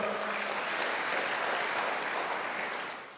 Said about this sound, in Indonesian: Beri tepuk tangan yang mantap.